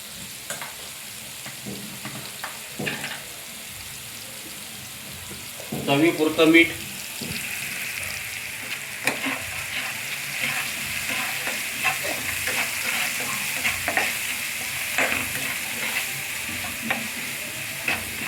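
Turmeric, red chilli and coriander powders with salt sizzle in hot oil while a spoon stirs them, giving close scraping and clinking over a steady frying hiss; a brief louder clatter comes early.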